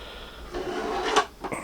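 A 3D printer's stock drawer slides open or shut with a short scraping rub that ends in a soft knock, heard close up and alone.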